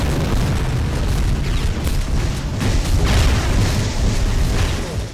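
Explosive shotgun rounds going off in a first-person shooter, a dense, continuous roar of booming blasts that stays loud throughout with no clear gaps between impacts.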